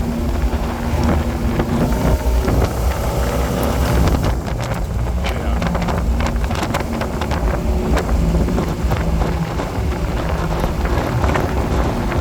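A 1980 Pontiac Trans Am custom roadster with 3.73 gearing cruises at 60 mph and about 3,000 rpm, its steady engine and road drone mixed with heavy wind rush across the open cockpit for the whole stretch.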